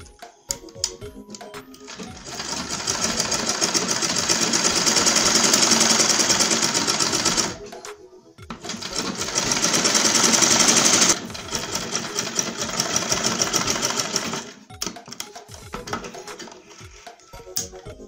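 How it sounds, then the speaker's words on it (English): A sewing machine stitches an Ankara fabric tote bag, running in long, fast, whirring bursts of rapid needle clatter, close and loud, broken by short pauses. "I want to stitch this part too."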